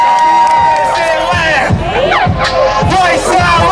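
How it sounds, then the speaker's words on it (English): A loud, close outdoor crowd at a South LA community fair and rally cheers, whoops and shouts for Los Angeles mayor Antonio Villaraigosa, with excited voices rising and falling in bursts. "Please, a warm round of applause for our mayor"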